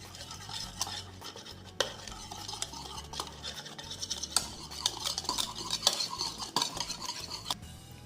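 Spoon stirring lemon juice and curd together in a bowl for a chicken marinade, giving a steady run of scraping clinks and wet swishes near and close, with no talk over it.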